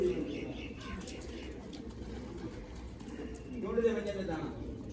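Pigeons coo softly as two pigeons land, over a steady outdoor rumble, with a brief louder burst of bird calls near the end and a voice faintly in the background.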